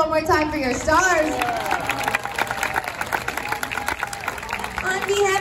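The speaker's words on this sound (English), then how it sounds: "Let's put our hands together one more time for your stars." Audience at a sea lion show at the Long Island Aquarium in New York applauds and cheers, a dense wash of clapping and crowd noise with an announcer's voice over it.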